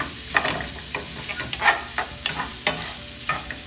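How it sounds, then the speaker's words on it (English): Cooked Spam tossed in a hot frying pan and browned for fried rice: repeated scraping, clattering tosses over a steady sizzle, close by and without talk. "we just want to give it a few tosses so we give a nice crispy brown"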